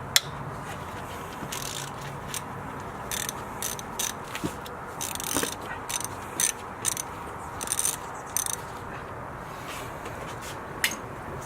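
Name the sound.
ratchet removing 10mm alternator bolts on Ford Mustang GT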